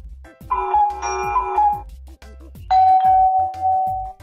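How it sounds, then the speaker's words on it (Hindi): A doorbell chimes twice in separate ding-dong rings, clear and close, with a short silent gap between them. "ये तो घर पे बाहर लगी घंटी की आवाज है"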